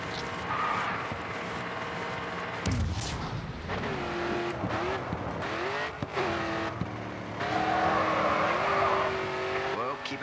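Race car in the driving game Grid 2, engine droning steadily with rising and falling revs through gear shifts and corners, plus a brief squeal, while a person talks throughout.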